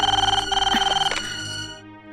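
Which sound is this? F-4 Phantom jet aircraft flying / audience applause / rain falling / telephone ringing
telephone ringing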